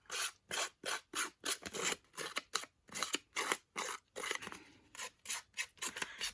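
Paper edges being roughed up for a collage, producing a brisk run of about twenty close rubbing, rasping strokes in a fairly even rhythm, with a short irregular stretch partway through and no talking.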